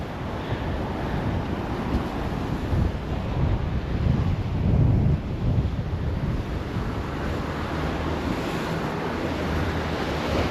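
Sea waves roll and wash steadily beneath a footbridge in Torquay, a continuous close surf with wind buffeting the microphone.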